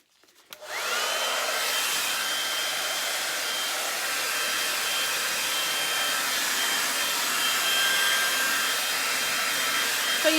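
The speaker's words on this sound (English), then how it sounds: "And then you just pop your hairdryer on it." A hair dryer switches on and blows on poured paint on furniture with a steady, loud whooshing roar that continues evenly to the end, with no talking.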